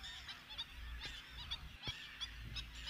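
Migratory water birds, a group of males preening, give repeated nasal honks scattered across the clip, fairly faint and distant over a steady low background rumble.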